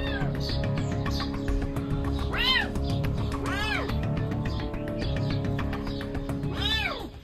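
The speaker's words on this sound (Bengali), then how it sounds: "আজ সারা রাত বিড়ালের বাচ্চা ডাকাডাকি করছে" Jungle cat kitten meowing repeatedly from above an attic space at night, several drawn-out rising-falling cries spaced a second or so apart, fairly close and clear over a steady low background hum.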